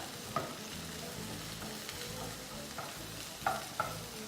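Sausages and onions sizzle steadily in a frying pan while a utensil stirs them, with a few scraping clicks against the pan over a constant hiss and no talking.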